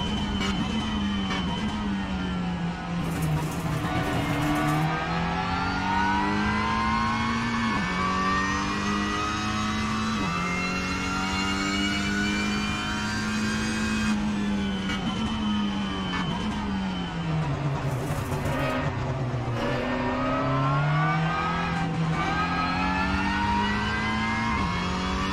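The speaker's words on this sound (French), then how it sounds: "Ah, super bruit cette voiture aussi." A 2022 Cupra TCR race car in a racing video game, its engine droning and revving steadily with rising and falling pitch through gear changes, loud and continuous throughout.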